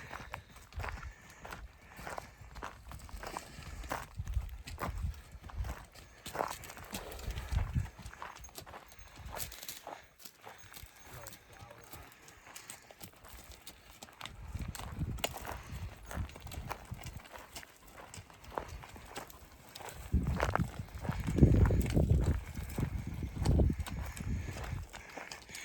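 Horses walk at a ranch with steady hoof clip-clop throughout, several animals close by, now louder and now softer, with occasional faint voices.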